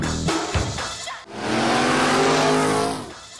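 A 1962 Targa Florio-winning Porsche race car with a 2-litre eight-cylinder engine roars loudly and close, a brief burst of revving then a sustained howling pass, with no talk.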